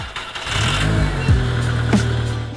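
A Volkswagen Golf almost out of fuel cranks and catches, its engine rising into a brief rev and then settling into a rough, loud idle close by.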